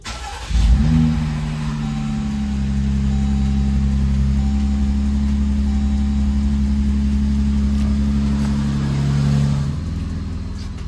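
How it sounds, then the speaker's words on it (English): A car engine turns over and catches, then settles into a steady, low rumbling idle with a faint electronic whine above it, as a car audio amplifier powers on. "I just need to turn the vehicle on"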